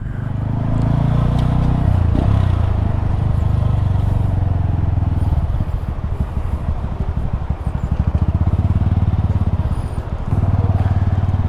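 Honda Grom motorcycle ridden through a tight passage, its small engine droning loud and close with a rough, pulsing note as the throttle rises and falls throughout, no talk.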